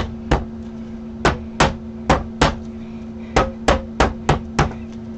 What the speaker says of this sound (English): Big hammer now.